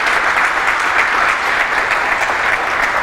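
Dense, steady applause from a church congregation fills the space evenly and loudly, clapping blended into a continuous wash with no pauses across the few seconds.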